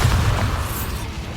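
A Bombarda spell explodes in Hogwarts Legacy, a deep, booming blast that rolls on with a low rumble and fades over a second or so, heard loud and close.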